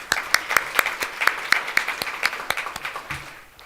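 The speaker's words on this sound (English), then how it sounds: "We will clap for them as well." Audience at a 2022 Chicago medical honor society induction ceremony applauding steadily for absent students, a sustained wash of many hands with a few sharp nearby claps standing out, alone without talk.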